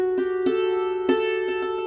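A hammered dulcimer's struck metallic strings ring out in a sustained, shimmering tone, playing "Over the Waterfall", with a few light hammer strikes adding fresh attacks over the resonance.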